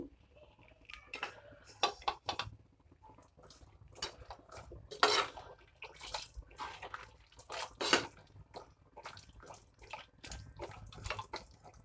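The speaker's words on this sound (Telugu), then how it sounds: "వేసాం కదా బాగా ఇప్పుడు కలుపుకుందాము" Rajma curry in a pot being stirred, scattered clinks and scrapes of a spoon against metal with brief wet slaps in an uneven rhythm, close but fairly quiet, no one talking.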